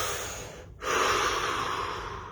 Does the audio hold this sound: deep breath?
yes